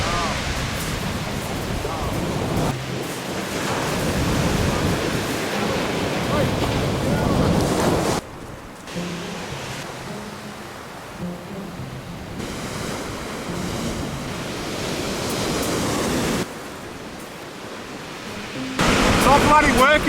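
Ocean waves breaking on a rocky New Zealand shore, a loud rushing surf that swells and drops in long surges, with wind buffeting the microphone and no speech.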